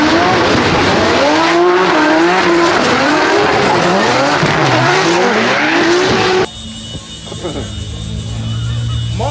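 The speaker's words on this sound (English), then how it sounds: "It's Adam teraz jedzie kwalifikację" A drift car flat out on a qualifying run at a Drift Masters event in Finland: loud, wavering engine revs with tyre squeal and skidding for about six seconds, then a sudden cut to quieter, distant track ambience.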